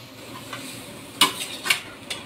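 Food is stirred in a cooking pan while it fries. Quiet sizzling runs underneath, and two or three sharp metallic scrapes of the utensil against the pan stand out above it.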